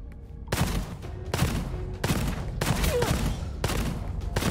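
Gunfire bursts in the shooter game Gunfire Reborn, five loud sharp volleys roughly a second apart over a steady rumbling background.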